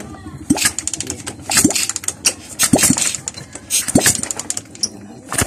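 A motorcycle kickstarter is pushed down four times at steady intervals, each a sharp, close mechanical thump and clatter, while a spark plug is out for a compression check, amid background noise and handling sounds.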